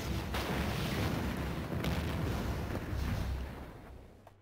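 Fireworks exploding in the Sega CD video game Ground Zero: Texas, a dense, continuous roar of booms and crackling bursts that stays loud throughout, then tapers off at the end.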